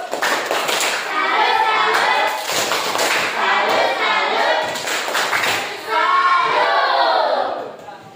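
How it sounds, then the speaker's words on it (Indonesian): Classroom participants perform a rhythmic "tepuk salut" clapping routine, clustered bursts of claps and slaps with chanting children's voices over them, loud and close for about eight seconds. "Tepuk salut."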